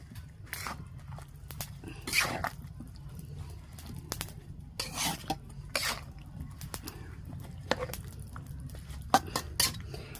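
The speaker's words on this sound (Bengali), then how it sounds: "এটাকে ভালো করে মিশিয়ে দিতে হবে মশলার সাথে" A spoon scrapes and clinks against a pot as bottle gourd and river prawns are mixed with spices over a clay stove. The scrapes come in irregular bursts, close by, over a low steady fire rumble.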